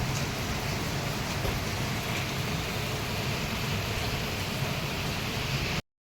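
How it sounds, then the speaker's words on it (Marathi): Heavy rain pours down in a steady, dense hiss that holds an even loudness throughout, with no voices, then cuts off abruptly near the end. "इकडे मात्र एकदम झपूक झपूक पाऊस पडला आहे"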